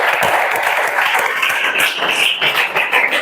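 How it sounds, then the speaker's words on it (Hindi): A class applauds on the teacher's cue, a dense burst of many hands clapping close and loud for about three seconds. "ताली बजाओ जी"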